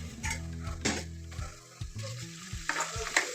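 Onions and bottle gourd pieces fry in hot oil, a soft close sizzle punctuated by scraping and clinks of a spoon stirring against the pan, with no talking.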